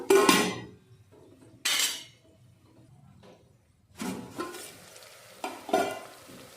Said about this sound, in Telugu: సో మూత పెట్టేసుకుందాం ఇక.